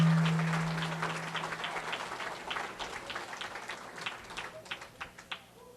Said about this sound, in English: can we give Amos a round of applause for the great meal that him and Percy put together?